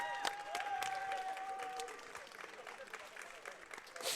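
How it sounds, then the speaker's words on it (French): Crowd applause for OG, the champion of a Super Smash Bros. Ultimate tournament final, rising as a steady wash of clapping with a bright sustained tone fading in the first two seconds and an announcer's voice mixed in. "Applaudissements encore s'il vous plaît pour OG"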